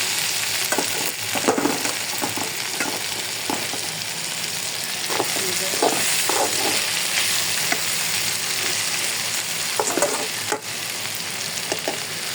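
Okra frying in a pan, with a continuous loud sizzle and intermittent stirring clatter up close, without speech.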